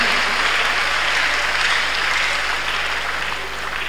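Church congregation at a Tuesday miracle service claps hands together in a sustained, even roar of applause with no voices rising above it.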